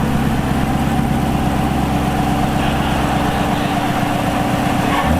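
A 2018 Chevrolet Camaro SS 1LE V8 with a Roto-Fab cold air intake and dry filter idles close by, a steady, dense rumble with a loping, rhythmic low pulse throughout.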